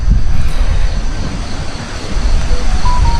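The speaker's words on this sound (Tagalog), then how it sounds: "Malakas ang hangin dito sa Tagaytay." Strong wind roars and buffets continuously in low, gusty rumbles at a rainy campsite in Tagaytay, loud and close, with no voices.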